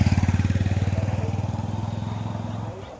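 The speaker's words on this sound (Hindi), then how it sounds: "एक मोटरसाइकिल प्लेटफार्म नंबर 1 पर दिखाई दे रही है" A motorcycle engine idles and putters on a railway station platform, a steady close rhythmic thumping that fades slightly toward the end, with no talk over it.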